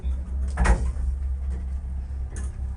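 Door opening or closing in a Roblox game, inside a dormitory building by a 1978 elevator, heard as one clear transient near the start and a fainter second one later over a steady low hum.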